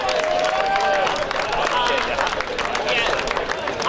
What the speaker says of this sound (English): So a round of applause for the players for a terrific exhibition of footy.